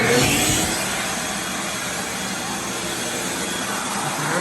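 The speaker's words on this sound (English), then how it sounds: "you have a strong vacuum to suck it up" A Ridgid 4-gallon shop vac runs steadily and loudly throughout, a constant broadband roar as it sucks up metal shavings, with no talk.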